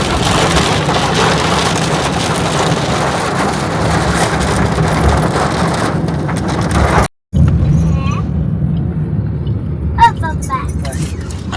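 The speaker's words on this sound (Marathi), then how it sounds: "वाटेत पण मला पाऊस लागला बघ खूप पाऊस पडतो" Steady loud broadband roar of heavy rain with a brief dropout partway, then quieter patter and faint bird-like chirps near the end.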